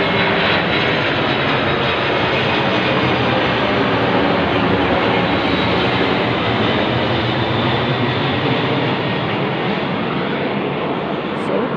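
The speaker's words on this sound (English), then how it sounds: "And while this is backing in front right in me, the plane is over my head." An airplane passes low overhead in a suburban street, its loud steady engine roar filling the scene continuously and close, with no let-up throughout.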